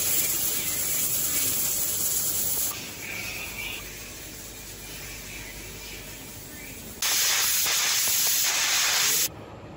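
Steam hisses loudly from a pot of ten pig's trotters stewing on a cassette stove. Two strong bursts of hissing at the start and near the end frame a softer, steady simmer in between, with no voices.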